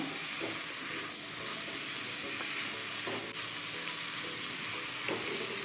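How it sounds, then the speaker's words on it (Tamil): Sliced mushrooms frying in a hot pan, a steady soft sizzle and hiss throughout with faint scraping as they are stirred and mixed, fairly quiet and continuous. "மஷ்ரூம் சேர்த்ததுக்கப்புறம் எல்லாத்தையும் மிக்ஸ் பண்ணி விடுங்க"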